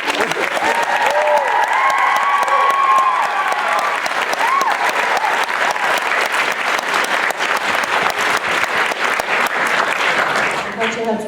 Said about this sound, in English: And I just want to get another round of applause for Aiden.